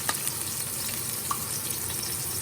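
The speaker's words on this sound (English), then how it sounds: "to season my oil, I'm adding the garlic and onions" Garlic and onions sizzling in oil in a wok over medium-high heat, a dense continuous hiss with small pops, close and steady throughout.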